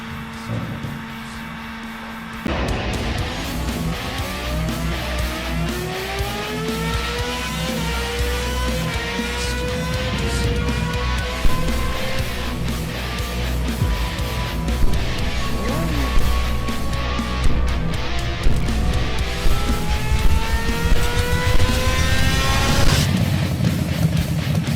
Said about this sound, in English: Today we are going to be doing dyno tuning on a fuel injected motorcycle